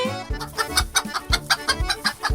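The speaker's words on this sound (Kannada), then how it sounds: "ಬೇಗ ಕೋಳಿನ ಅದರ ಗೂಡಲ್ಲಿ ಬಿಡೋಣ" A chicken in a children's toy pretend-play scene clucks loudly in a quick, rhythmic series of repeated clucks, close and clear, with no talking.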